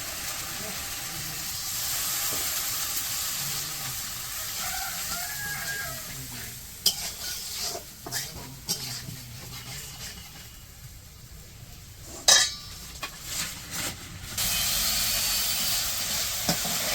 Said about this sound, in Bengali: মশলা যা যা লাগে সব কিছু দিয়ে কষে নিতেছি